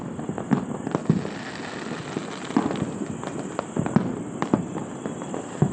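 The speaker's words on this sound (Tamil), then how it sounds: "ஓகே, அடுத்த ராக்கெட்டு விட்டுருக்காங்க." Firework rockets launching and bursting outdoors, a run of sharp cracks and bangs scattered over a crackling background, some loud and near, others fainter and farther off, with no talk.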